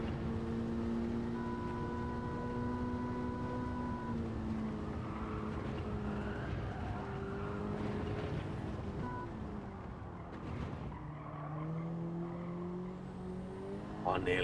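A race car engine in a racing video game holds high, shifting tones as it revs and changes pitch, with a brief squeal and a drop near the end, under faint background noise.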